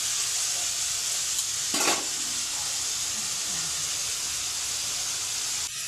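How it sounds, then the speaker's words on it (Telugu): Mutton sizzles steadily in hot oil, a continuous close frying hiss with a brief louder burst of stirring near the start. "ఇప్పుడు ఇదైతే ఆయిల్లోన బాగా వేగాలండి"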